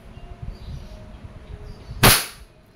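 KWC 75 airsoft pistol firing a single shot, a sharp, bright crack standing out clearly above low background rumble, close and loud with a quick fade.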